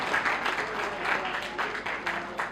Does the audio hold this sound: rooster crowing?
no